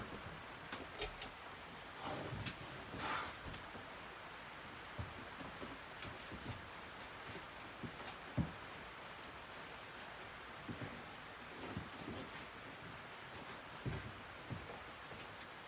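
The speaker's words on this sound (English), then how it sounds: "it's starting to rain outside. It's weird, probably hearing that rain noise." Light rain falls outdoors as a soft, steady hiss with scattered faint drips and patters, heard alone at low level with no talking.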